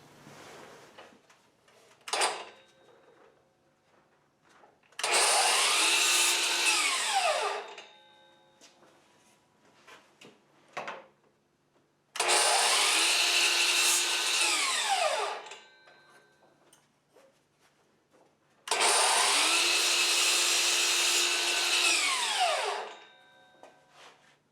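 A power saw makes three separate cuts through wood trim pieces with 45-degree ends for a chicken coop, each a loud whining burst of a few seconds, with clatter and handling noises between cuts.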